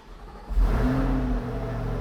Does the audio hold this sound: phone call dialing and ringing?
no